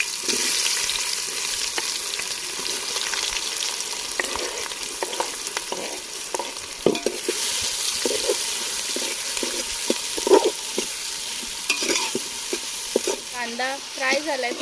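Whole spices and green chillies sizzling loudly in hot oil for chicken biryani, a dense continuous crackle with scattered stirring scrapes and pops, close to the listener.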